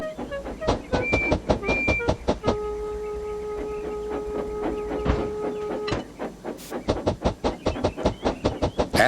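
A toy engine shunts railway cars, giving a loud run of rhythmic clanks and chuffs, a sustained steam hiss in the middle, then another quick sequence of clanking hits near the end; no one speaks.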